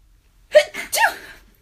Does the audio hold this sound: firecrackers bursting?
no